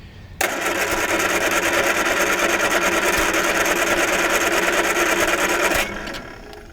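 A 1978 Triumph Spitfire that sat abandoned for years cranks on its starter, a steady whirring churn lasting about five seconds before cutting off, close and loud without catching.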